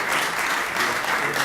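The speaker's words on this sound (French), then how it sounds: "Sur vos applaudissements." An audience bursts into brisk, dense clapping that holds steady and loud for the whole short moment.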